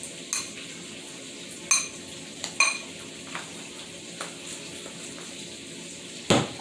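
A spoon scrapes and clinks around a pot of pinto beans as ground cinnamon is stirred in, several sharp metallic taps spaced over a soft sizzling background, close and moderately loud with no talking.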